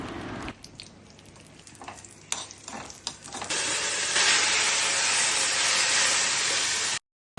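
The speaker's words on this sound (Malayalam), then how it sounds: "ഒരു പാത്രത്തിലേക്ക് നെയ്യൊഴിച്ച് അണ്ടിപ്പരിപ്പ്," Cashews and raisins fry in hot ghee in a pan, a steady close sizzle and hiss that gets louder and denser partway through, with light stirring clinks early on and no voices.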